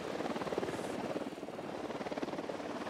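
An enemy helicopter approaching in a stealth video game mission, rotor blades thumping in a steady fast pulse over a broad engine hum, moderately loud and constant.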